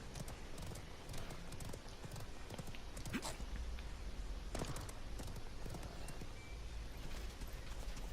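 Horse hooves clop steadily while riding in the battle royale game Realm Royale, a continuous rapid gallop mixed with in-game noise and scattered sharp effects, without talk.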